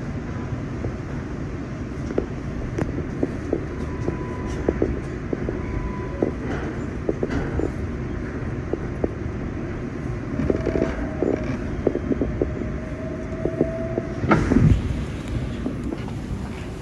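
An R188 subway train on the New York City 7 line, on an express run from 34th Street–Hudson Yards toward Flushing, rides with a continuous heavy rumble, rattling car noise, clunks and faint wheel squeals.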